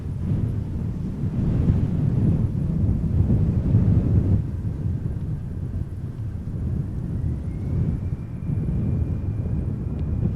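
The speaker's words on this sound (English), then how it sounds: "Right, so she is moving. EasyJet A319 going to Birmingham." An easyJet Airbus A319-100 jet taxis at Amsterdam Schiphol, its steady low engine rumble filling the scene from a distance, mixed with gusty wind buffeting the microphone and a thin whine rising near the end.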